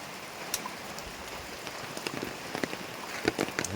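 Rain patters on surfaces on a dark early morning, a dense steady hiss of drops with scattered sharper splats growing busier toward the end, close by and without voices.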